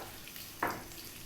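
Onion and celery hit hot olive oil in a wok over a low background hiss, with one quick surge of sizzle about halfway that fades over the following moments.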